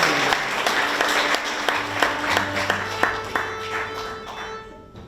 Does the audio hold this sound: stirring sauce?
no